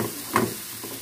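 Whole cumin, coriander and turmeric temper in a pan with barely any oil, giving a soft, steady sizzle and crackle with a brief louder pop, close and without talk.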